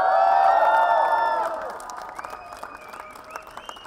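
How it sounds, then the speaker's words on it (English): A crowd applauds and cheers for the Bengaluru FC football team, a loud swell of whoops and clapping that fades after a second and a half into scattered shouts and whistles. "I think a huge round of applause for our team who have made all of this possible"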